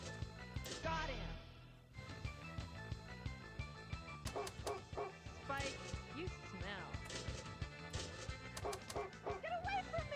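Dog barks and yips from a Pinball FX3 Fallout video game table, repeated bursts mixed with game music and effects while a person talks over them.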